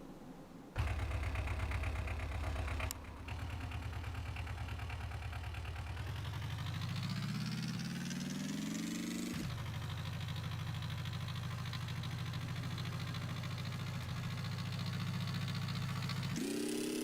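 Gas engine of a tractor in the game Gearblocks, idling, then revving up in a rising whine, dropping back to idle and starting another climb, with no voices.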